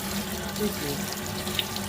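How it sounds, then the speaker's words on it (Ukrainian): Tap water runs steadily into a sink as soaked walnuts are rinsed, a continuous close splashing rush lasting the whole moment with no talking. "Через 8 годин зливаємо цю грязну воду і добре вимиваємо воду."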